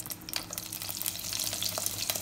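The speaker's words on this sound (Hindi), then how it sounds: "उसमें 2 टेबलस्पून हम देसी घी ऐड करेंगे, 1 टेबलस्पून जितना ऑयल ऐड कर लें, 5 से 6 ग्रीन चिलीज ऐड कर लें।" Green chilies sizzle steadily in desi ghee and oil in a pan, a continuous close, loud crackling hiss with scattered pops throughout and no voices.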